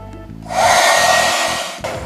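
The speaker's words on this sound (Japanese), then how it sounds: "このブースの中のホコリをドライヤーで飛ばしちゃう。" A hair dryer blasts dust out of a model paint booth before spraying a TAMIYA 1/12 Suzuki GSX-RR kit, starting after a brief low rumble and roaring steadily and loudly before dropping and briefly surging again.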